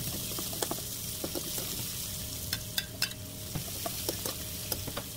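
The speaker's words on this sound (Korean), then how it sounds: "준비한 야채를 먼저 볶아요." Prepared vegetables, garlic and cheongyang chili stir-fry in plenty of oil for a spicy Korean squid dish. A steady, close sizzle runs throughout, dotted with light scraping and clicking from the stirring utensil.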